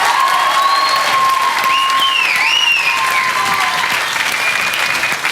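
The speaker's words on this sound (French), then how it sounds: "s'il te plaît, grand applaudissement pour amie de moi, chérie de moi, Christina" A French television audience gives sustained, steady applause for a guest named Christina, loud and dense throughout, with light crowd cheering mixed in.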